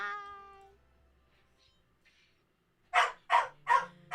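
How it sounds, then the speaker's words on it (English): A puppy gives four quick, loud bursts of yapping at the end, following a near-silent stretch that opens with a fading tone. "The puppy says bye."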